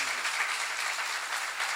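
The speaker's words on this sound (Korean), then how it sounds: "박수 하세요." A church congregation claps during a sermon at a seminar, a short steady wash of applause heard fairly faint and even throughout, with no clear voice over it.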